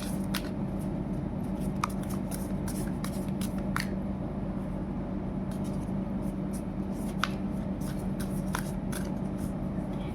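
Tarot cards are shuffled and drawn by hand, giving soft close riffling and sharp card flicks in irregular bursts over a steady background hum.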